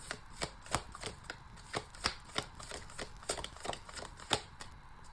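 Tarot cards are shuffled by hand in a series of crisp, rhythmic riffling snaps, about a dozen sharp bursts spread evenly across several seconds, close and moderately loud with no voice over them.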